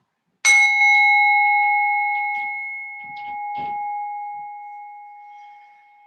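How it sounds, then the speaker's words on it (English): A single bell struck once to open a yoga rest period rings out clearly and alone, its bright tone sustaining and slowly fading over several seconds amid soft rustling. "Sound of the bell taking us in"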